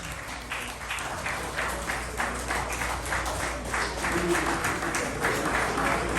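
An audience at a live tribute concert claps steadily as a band is called to the stage, a dense, continuous patter of many hands that stays fairly even and builds slightly toward the end.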